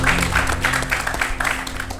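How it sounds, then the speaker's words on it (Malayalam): Studio audience on a kids' quiz show claps in a brisk burst of rhythmic applause, fairly close and steady, with music underneath. "മൂന്നാമത്തെ ചോദ്യത്തിലോട്ട് എത്തിയെന്റെ സന്തോഷമായിരുന്നു കേട്ടോ അത്, ആ കൈയടി"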